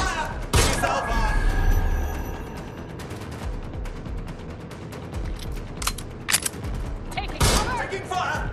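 Video game gunfire in Watch Dogs Legion, a few sharp, loud shots and cracks scattered across a busy mix of noise, with people talking throughout.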